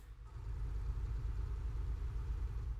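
Stock engine of a Scania truck in a driving game, a steady low rumble at low speed, continuous and even throughout with no talk over it.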